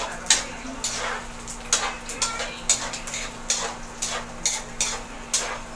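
Cooking oil sizzles in a pan with a soft, continuous fry, broken by regular sharp ticks and clatters about every half second, like stirring or scraping, under a low steady hum at a birthday meal.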